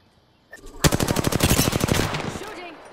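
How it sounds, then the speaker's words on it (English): A single rapid burst of automatic gunfire in the battle royale shooter Apex Legends, a fast close string of sharp shots lasting about two seconds after a short quiet lead-in, then a fading tail. "They're shooting at me."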